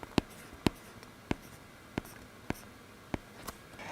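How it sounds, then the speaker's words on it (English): Stylus taps and short strokes on an iPad fitted with a Paperlike screen protector, about seven crisp, papery ticks spaced unevenly over a few seconds, close and fairly quiet with no talk. "writing on the Paperlike screen protector is like writing on paper."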